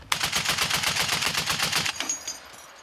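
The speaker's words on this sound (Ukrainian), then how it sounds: "Постріл." A rapid burst of automatic gunfire on a battlefield, about twenty sharp evenly spaced shots, then a fading echo.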